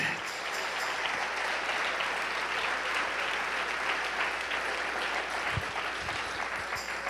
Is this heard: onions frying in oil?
no